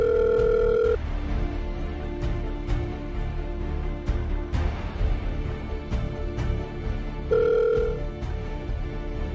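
A telephone rings on an incoming call, a bright two-part ring tone that sounds at the start and again near the end, set over music.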